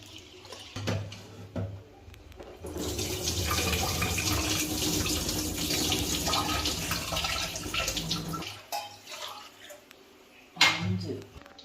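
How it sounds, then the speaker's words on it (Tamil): Running tap water splashes into a pot as rice is rinsed at a kitchen sink, a steady close rush lasting several seconds before stopping, with a person speaking in the background. "அரிசி கழுவிட்டு சாப்பாடு வச்சுக்கலாம்."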